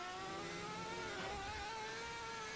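A Honda Super GT race car engine in a sim racing game, a sustained high revving note with steady rising and falling harmonics, heard at a distance and fairly quiet.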